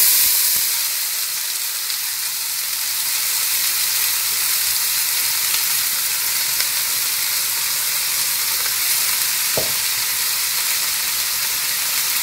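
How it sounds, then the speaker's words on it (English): A kilo of diced onions sizzling in avocado oil in a pot for Austrian-style Hungarian beef goulash, a loud, steady broadband hiss with a single brief knock near the end, no talking. "We're going to add our 1 kilo of diced onions."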